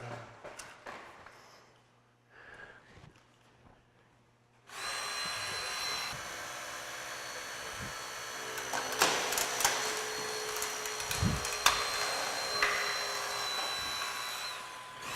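Hydraulic rescue cutter making a high cut through a car's A-post during a vehicle extrication, a few quiet seconds then a loud sustained grinding hum with metallic creaks and a sharp crunch, no talking.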